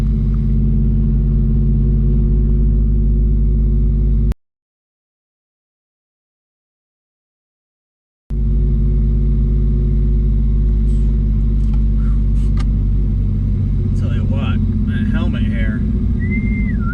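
A Pontiac Trans Am at a drag strip, its engine rumbling loud and steady near the start line, cut off by a few seconds of silence before the heavy droning resumes with faint whistling and brief voices in the background.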